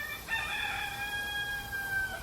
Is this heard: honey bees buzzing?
no